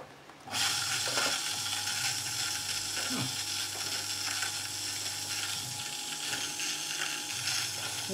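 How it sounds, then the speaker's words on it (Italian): Motor of an old bench grinder running after an overhaul, starting abruptly and then holding a steady, loud grinding whir with a rattling mechanical texture and a low hum throughout. "Il rumore è un rumore di macinamento."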